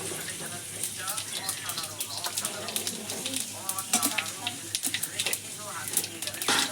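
Bay leaves and whole cumin seeds sizzling in hot oil, a crackling, spitting sizzle with bursts of popping and stirring, while a voice talks faintly underneath.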